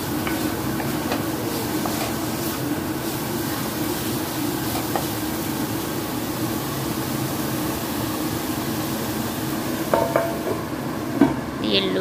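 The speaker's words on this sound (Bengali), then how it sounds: "লাউটা দিয়ে মশলার সাথে ভালোভাবে মিশিয়ে নেব।" Bottle gourd stirred into a spice paste frying in a pan over low flame, heard as a steady low sizzle with occasional faint scrapes and clinks of a utensil, close and without voices.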